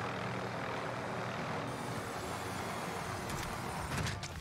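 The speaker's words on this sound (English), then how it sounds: "I jumped out the chopper and the propellers chopped me" A video game helicopter in Call of Duty gives a steady, low mechanical engine drone with rotor-like rumble throughout, fairly quiet and continuous, with a couple of faint higher clicks near the end.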